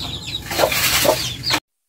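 Chickens cluck close by amid a rustle of flapping wings, a short busy burst of fowl activity with no talking.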